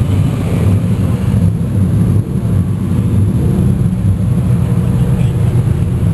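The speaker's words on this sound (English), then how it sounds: "Some kind of 53 Chevy gasser, tube front axle, moon gas tank, fender exit headers with little mufflers." A 1953 Chevy gasser with a tube front axle and fender-exit headers fitted with small mufflers idles with a steady, loud, low rumble that stays constant throughout, close by and without voices.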